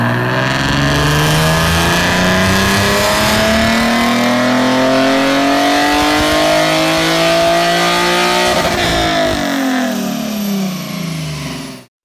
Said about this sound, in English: Hyundai Genesis Coupe.